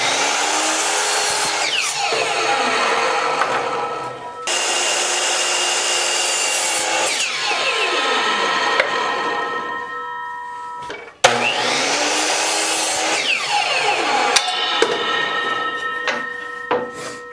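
A power saw cuts a 45-degree angle through wooden trim, several loud sustained cutting passes with whining spin-downs between them and a sharp clunk midway, alone without talk.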